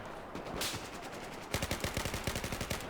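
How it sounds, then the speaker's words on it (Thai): Rapid gunfire in the video game Battlefield 4 on hardcore mode, a loud steady burst of many evenly spaced shots that follows a short stretch of scattered firing and game noise. "มีสไนยิงมา"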